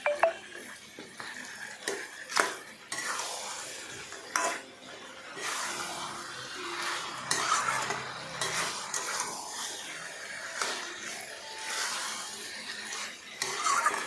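Catla fish head with ginger paste is stirred in a pan, a spatula scraping and knocking against the metal in irregular bursts, with a low frying hiss underneath and no talking.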